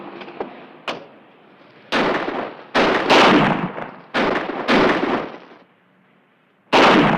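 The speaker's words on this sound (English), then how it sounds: "He's still shooting." Gunfire in a 1957 harbor police TV drama, about eight sharp shots in an irregular sequence, some single cracks and some longer blasts with echoing tails, loud and close with quiet gaps between.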